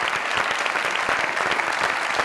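A studio audience at a comedy talk show claps loudly and steadily, a dense, even wash of applause that fills the short moment on its own.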